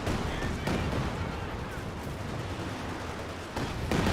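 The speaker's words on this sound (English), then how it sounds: "And now got a Katyusha barrage." Katyusha rocket barrage in Company of Heroes 2, heard as a dense, continuous roar of rapid launches and explosions that stays loud throughout and swells again near the end.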